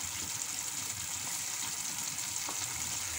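Beans added to a tomato paste for Egyptian foul medammas sizzle steadily in a pan, a continuous close hiss with soft bubbling and no talking.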